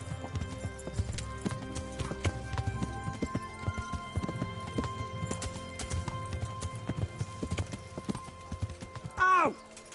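Horse hooves clip-clop steadily on the ground in Kingdom Come Deliverance, a continuous medium-loud trotting rhythm, with a brief horse whinny near the end.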